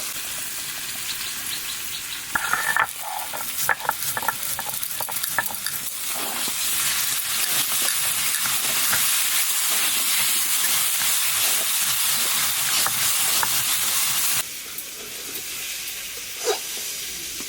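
Home-grown elephant foot yam fries in hot oil in a pan, a loud continuous sizzle and steam hiss with scraping stirs, easing slightly toward the end.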